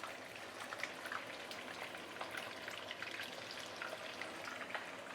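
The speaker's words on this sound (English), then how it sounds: "Then I'm going to fry our tofu first." Meat-stuffed tofu pieces, meat side down, fry in a pan with a soft, even crackle of fine sputtering pops, faint and steady.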